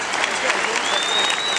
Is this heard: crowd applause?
yes